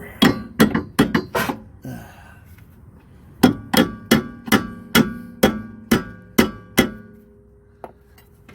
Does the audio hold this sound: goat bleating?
no